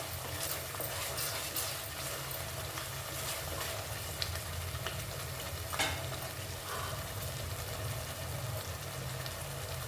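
Ivy gourd frying in oil, stirred steadily in a pan: a continuous close sizzle with a soft scraping stir running evenly underneath, no voices.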